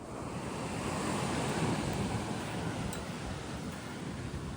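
Surf rolls and washes onto a shore during a cyclone while strong wind buffets the microphone in a continuous roar.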